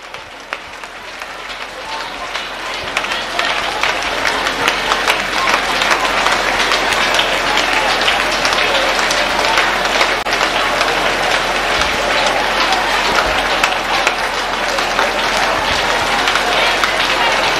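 A church congregation claps their hands steadily while praying, producing a dense, continuous wall of clapping that builds in the first few seconds and holds loud for the rest, with voices murmuring underneath.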